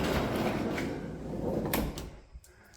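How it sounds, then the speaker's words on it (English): A van's sliding door rolls open on its track, a broad continuous scraping rumble over about two seconds ending in a couple of faint clicks. "let me open this sliding door"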